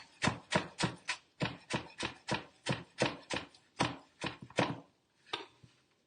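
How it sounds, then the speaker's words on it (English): A knife chops green onions rapidly on a cutting board, around a dozen crisp, evenly spaced strikes, then a brief pause and a few final chops. "So I'm just chopping up some green onion to put on top of our potatoes."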